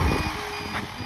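An RC car's 3.7 volt low-voltage battery alarm sounds as a loud, steady high-pitched electronic beep right up close, with no talking.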